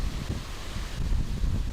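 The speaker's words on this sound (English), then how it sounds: "Getting windy a little bit." Gusty wind buffets the microphone outdoors in Azerbaijan, a low, rumbling roar, steady and close, with no voices present.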